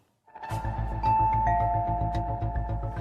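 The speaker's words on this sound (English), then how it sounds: "And I heard the bell ringing." Electronic doorbell chime, two clear ringing tones in succession over a steady pulsing low hum, loud and close in a quiet room.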